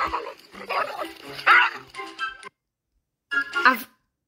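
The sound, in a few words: dog barking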